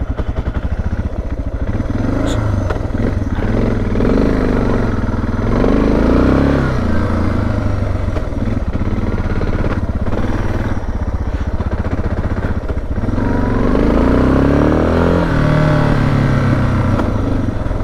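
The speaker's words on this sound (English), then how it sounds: "I start the engine up to ride up to the gas station" A motorcycle engine running close by, revving up and down repeatedly with a throaty rumble that stays loud throughout.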